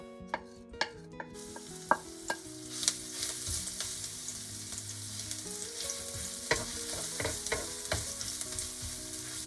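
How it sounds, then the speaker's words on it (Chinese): Minced garlic stir-frying in about 30 ml of oil in a wok over low heat, a steady close sizzle broken by sharp clicks and scrapes of the spatula, with no voices. "先炒香蒜泥"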